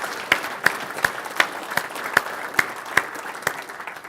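A conference audience at a farming profit seminar applauds three agronomists with a steady wash of clapping, punctuated by a few sharp louder claps, sustained and fairly close.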